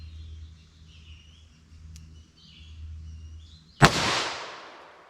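A single sharp, loud gunshot from a .327 Federal Magnum revolver with a 4.2 inch barrel cracks near the end, ringing off briefly after a quiet outdoor stretch with low hum and faint bird chirps.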